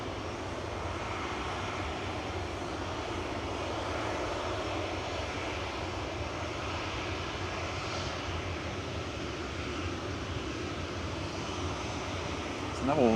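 Sun Express airliner arriving from Dalaman touches down at Manchester Airport, a continuous engine rumble and roar rising slightly at the end, with faint talk beneath.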